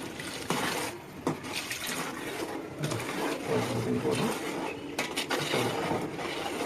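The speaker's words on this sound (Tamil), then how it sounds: "எவ்வளோ வேணுமோ அவ்வளோ தண்ணி ஊற்றணும்" Water being poured into a pot of biryani, a continuous splashing trickle heard close by while someone talks over it.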